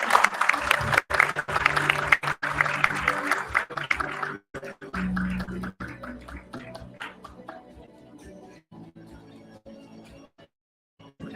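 An audience at a developer conference session applauds warmly, dense clapping that stays steady for several seconds and then thins out into a few scattered claps.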